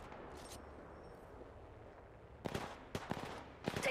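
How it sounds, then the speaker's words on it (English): Gunfire in the video game Apex Legends comes as three short, sharp bursts in the latter half, following a quiet stretch of low background noise. "Taking fire."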